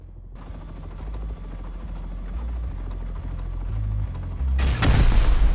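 Automated turrets in Rust open fire over a steady droning rumble, with sharper bursts of gunfire breaking in loudly near the end.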